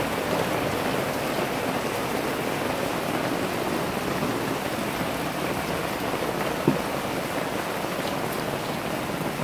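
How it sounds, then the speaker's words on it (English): A sudden heavy summer downpour during a storm over Peterborough, a steady dense roar of rain close by, pounding surfaces without a break, with no voices. "I don't understand though why it has to downpour at such an extreme rate."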